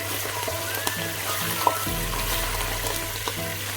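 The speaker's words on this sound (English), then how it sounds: "Then I'm gonna add about 2 tablespoons of ginger and garlic paste. Saute it." Ginger and garlic paste sautés in a little oil in a pan for a sheep curry, a steady close sizzle broken by a few soft knocks and scrapes, with nobody speaking.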